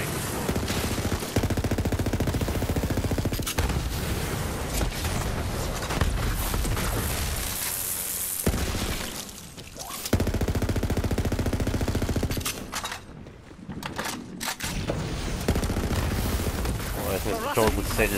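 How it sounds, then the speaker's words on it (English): Machine-gun fire and booming explosions from the game Borderlands 3, loud and nearly nonstop, broken by a couple of short pauses. "Sheesh, many explosions."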